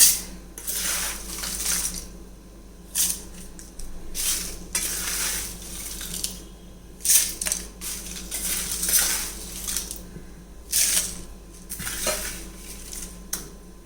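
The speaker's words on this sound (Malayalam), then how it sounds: "ഇതെല്ലാം കൂടെ ഒന്നിച്ച് ജാറിലേക്ക് ഇട്ടിട്ടുണ്ട്." Whole spices for sambar powder rattle into a dry mixer grinder jar in several separate pours, each a bright clattering scatter of hard seeds against the jar, with quiet pauses between.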